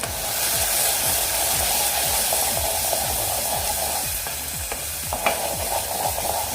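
Onion-garlic masala with red chilli, turmeric, garam masala and coriander powder is stirred in a pan. Soft sizzling mixes with repeated scraping strokes and a few light clinks, and faint music plays underneath.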